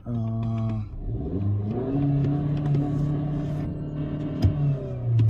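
A Kia Optima SXL accelerating hard with traction and stability control off, its engine revving up through rising tones in a loud, continuous roar with brief shifts between pulls, close by and alone.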